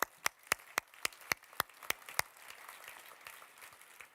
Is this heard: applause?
yes